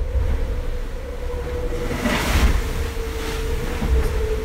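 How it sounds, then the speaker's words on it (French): Foiling IMOCA racing yacht at speed on its starboard foil during the Vendée Globe, a steady loud high whine running over a constant rushing roar of water and hull noise, without voices. "Portac leaning on his starboard foil, blasting such a high sound frequency"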